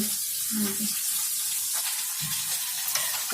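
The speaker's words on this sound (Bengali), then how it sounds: "এদিকে যে মাছ মাছটা ভেজে নিতেছি" Fish frying in a pan of oil in a home kitchen, a steady close sizzle with stirring scrapes and a brief water splash, a person talking over it.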